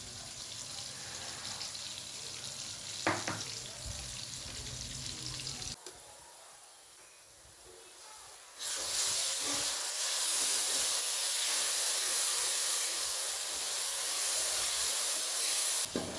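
Steady sizzling and hissing of garlic, ginger and green chili paste frying in hot oil with onions, loud and continuous, growing brighter partway through as the frying intensifies.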